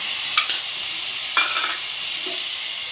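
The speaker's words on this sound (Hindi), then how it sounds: "लहसुन दिला के बाद अहाँ लहसुन के बढ़िया से फ्राई कर लिया" Steady hiss of garlic frying in hot oil in an iron pan, with a few brief stirring scrapes over the sizzle.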